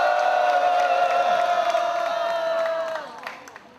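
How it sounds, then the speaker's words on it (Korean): Crowd at the opening of a peace rally in Gwangju cheering and whooping with applause, a loud sustained roar carrying a long held tone that fades out after about three seconds, leaving scattered fainter sounds. "여러분들의 힘찬 박수 함성으로 시작하겠습니다."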